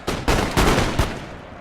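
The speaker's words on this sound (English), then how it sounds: "Good volley by the grenadiers." Musket volley fired by grenadiers in the Napoleon Total War video game, several rapid overlapping gunshot blasts in a loud ragged burst that rings off briefly.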